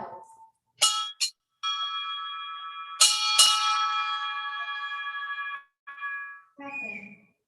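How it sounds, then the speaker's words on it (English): Ship's bells struck four times in two pairs at a US Navy retirement ceremony, loud, clear and ringing, with long resonant sustain after each pair and a brief voice at the end. "Sound 4 bells."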